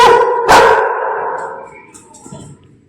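A single loud dog bark rings out close by, trailing off into quieter background rustling.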